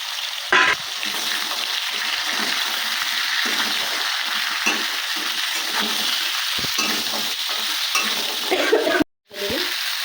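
Chopped vegetables and mustard stems sizzle loudly in a hot pan with five-spice and bay leaf while a spatula stirs and scrapes through them, a steady close frying hiss with a brief clatter near the end.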